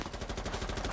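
Rapid automatic gunfire from Rainbow Six Siege, a loud continuous burst of closely spaced shots filling the whole second with no talk.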